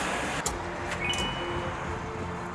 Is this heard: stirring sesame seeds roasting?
no